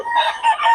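A gamecock rooster of a sweater bloodline crows briefly and loudly nearby, a short strained call with no talk.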